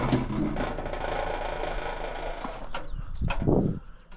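A small engine running used for irrigating potatoes, a steady buzzing whir that holds evenly before a louder burst and tapering off near the end.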